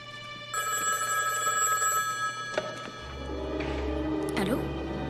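Telephone bell ringing in an indoor scene, a bright, sustained metallic ring that starts and stops in a couple of bursts, with a low hum and some movement sounds following.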